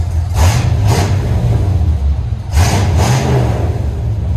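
A 1972 Chevy C10 long bed with a 350 V8 and Flowmaster exhaust idles with a deep, loud rumble. Two pairs of quick throttle blips rise and fall over it, close by.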